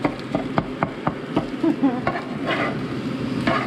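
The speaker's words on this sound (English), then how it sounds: "So I'm just going to kind of scrape that up a bit, or stir that up a little bit so it mixes, and then I'm just going to let it fry." Scrambled egg cooking for fried rice sizzles in a pan while a utensil taps and scrapes rhythmically at the start, then settles into a steady frying hiss with a few clinks.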